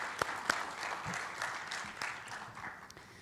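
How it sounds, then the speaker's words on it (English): Applause from a conference audience at an international business event, a steady mid-distance patter of many hands with a few sharper nearby claps, fairly quiet throughout. "A round of applause, ladies and gentlemen"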